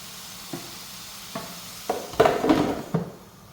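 Pork burgers fry in a pan with a steady soft sizzle, while several distinct scraping and clinking sounds come from stirring or shifting the patties, growing louder toward the end.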